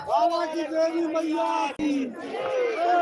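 A large, dense crowd of pilgrims at a riverside bathing site roars and shouts together in a loud, continuous wash of voices.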